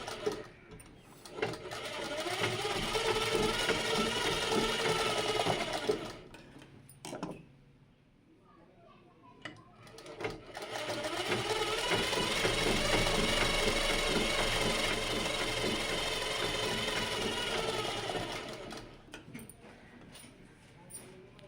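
Sewing machine stitching a blouse cup (katori), two long runs of fast rhythmic mechanical whirring with a quiet pause between them, close and clear, with faint talk in the background.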